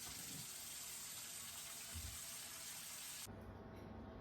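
Tomatoes being washed in a basin of water with vinegar added: a steady, close gushing and splashing of running water that shifts in tone near the end, with no talking.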